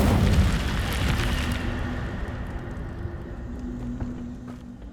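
Incendio fire spell cast in Hogwarts Legacy: a loud, rushing burst of flame at the start that roars briefly, then fades into a lingering crackling rumble with faint footsteps.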